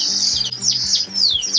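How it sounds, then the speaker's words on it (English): Garden birds chirp and sing up close in quick, bright, rising and falling phrases, clear and loud with a faint low hum underneath. "the ability to hear the birds more as traffic has dimmed down"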